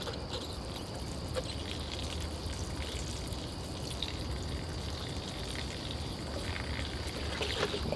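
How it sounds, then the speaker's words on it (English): Water soaking into dry soil in a bonsai pot, a steady close hiss and trickle of fizzing and seeping that holds even throughout, with no talking. "The water's soaking in really nicely now."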